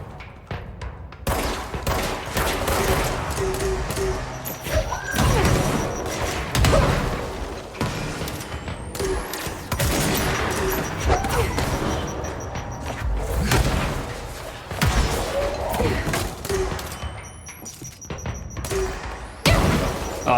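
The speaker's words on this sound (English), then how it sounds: "The grenade launcher." Repeated grenade launcher shots and heavy explosions in the video game Control, loud booming bursts mixed with rapid gunfire and crashing debris in a chaotic firefight.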